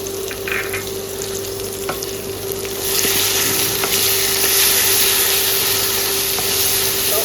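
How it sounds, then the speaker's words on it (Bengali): Meat frying with spices and blended cinnamon and cardamom in a pan, a steady broadband sizzle that grows louder partway through and continues without talk. "এখানে আমি মশলাটা ভালোভাবে কষা নেব।"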